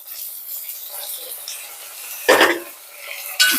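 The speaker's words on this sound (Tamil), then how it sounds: "இந்த தக்காளி போட போறேன்." Tomatoes go into a pan of sautéed ginger garlic paste, bringing a sudden loud sizzling burst and then a second short flare over a low background hiss.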